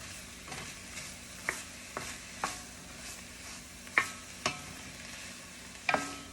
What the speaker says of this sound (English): Mushrooms, they'll shrink down quite a bit as they cook.